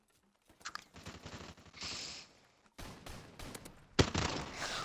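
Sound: big gun firing in Call of Duty: Modern Warfare Remastered video game

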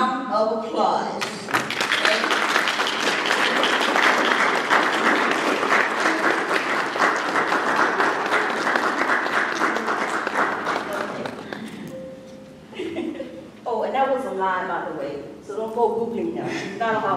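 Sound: applause welcoming the lecturer

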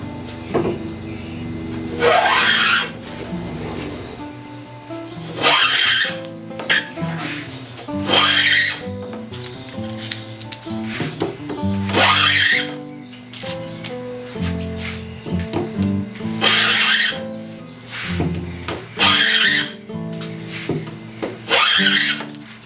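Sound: restored hand wood plane shaving wood

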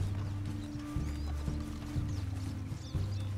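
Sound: horse moving and neighing in video game Red Dead Redemption 2

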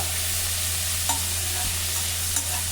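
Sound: tempering spices frying in oil

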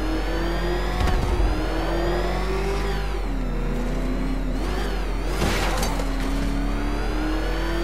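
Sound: car engine accelerating in the Arkham Knight video game

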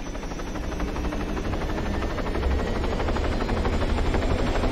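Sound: helicopter in video game Arma 3

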